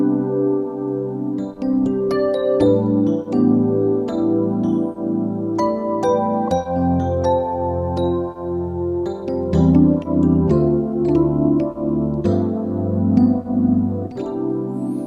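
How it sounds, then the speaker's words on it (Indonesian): Electric piano voice on a Yamaha MX61 synthesizer keyboard, with warm vintage-toned chords and melody played continuously and close with no talking. "Ini suara electric piano yang sering banget Mas Kris pakai."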